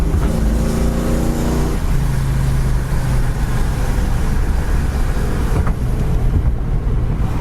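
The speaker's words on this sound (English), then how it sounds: "So really nice driving Mustang Mach 1." Inside a 1972 Ford Mustang Mach 1 cruising down the road, a constant loud engine drone and road roar fill the cabin, with buffeting wind noise throughout.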